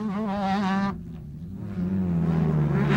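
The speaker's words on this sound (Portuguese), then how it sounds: "toda a potência que o Christopher coloca na sua moto" A racing motorcycle engine at full power on a track, loud and close, with a high droning whine that dips briefly mid-pass and then climbs again as the bike pulls away.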